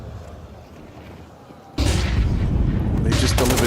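A grenade detonates in Counter-Strike 2 during a playoff esports match, a sudden loud broadband blast about halfway through that sustains with rumbling gunfire-like bursts, while a caster talks underneath.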